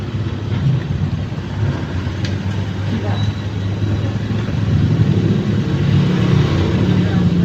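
A scrambler motorcycle fitted with a different engine rumbles and revs steadily up close, its low engine drone running continuously with no talk over it.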